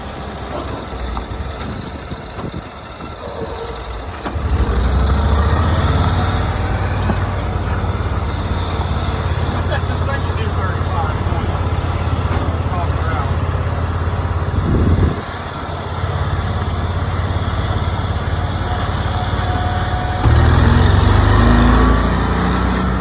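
Cushman Truckster utility vehicle from the 1990s driving, its engine running loud and steady with a roughly rising surge near the start and bumps along the way, no talk.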